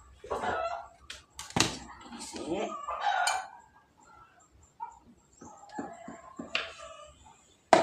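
A chicken clucks and squawks in short, uneven bursts nearby, with a few louder cries scattered through the stretch and quiet gaps between.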